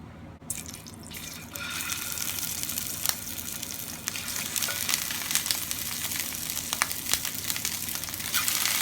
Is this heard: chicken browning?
yes